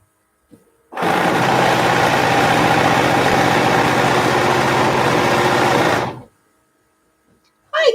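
A sewing machine stitching binding onto the front of a T-shirt quilt runs as one steady, even whirring hum for about five seconds, then stops abruptly.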